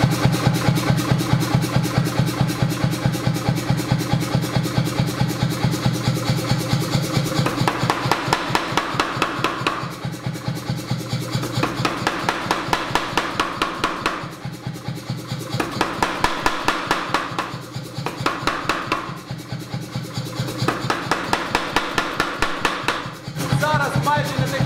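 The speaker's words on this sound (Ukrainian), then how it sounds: "розмовляти при працюючому ковальському молоті, навіть при такому маленькому, це ще окремий квест" A Chinese C41-16 pneumatic forging power hammer with a 16 kg falling part runs in a workshop, pounding in a fast, steady stream of loud, even blows that pause and resume for the whole stretch.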